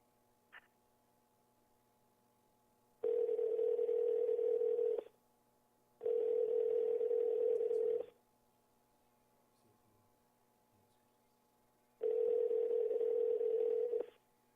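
A telephone ringback tone sounds while a guest is being called in, with three long, steady beeps of about two seconds each separated by silent gaps, clear and alone on a quiet line.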